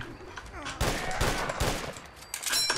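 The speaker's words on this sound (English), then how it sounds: "I hear a turret!" Turret gunfire in Fallout 4 sounds as a run of distinct, fairly close shots in quick succession, several heavy bangs spaced through a short stretch over busy game ambience.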